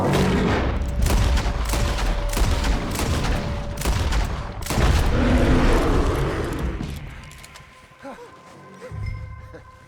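Repeated loud gunshots fired at a legendary bear in Red Dead Redemption 2, a dense volley of booming reports for several seconds, easing off near the end as faint voices take over.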